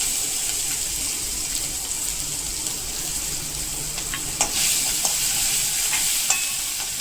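Garlic and chili paste hitting hot oil in a frying pan for dal batti, a steady loud sizzle with occasional scrapes and clinks as it is stirred.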